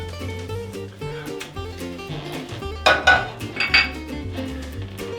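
Pork fried rice is spooned into a bowl, with clinks of utensils against dishes and a pan, close by over a background of music.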